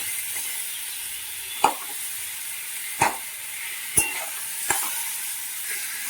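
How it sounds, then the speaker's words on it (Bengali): Masala fries with a soft steady sizzle in a pan while a spoon stirs, giving a few sharp scraping clicks against the metal at irregular intervals. "ভালো করে ভেজে নিচ্ছি, কষিয়ে নিচ্ছি"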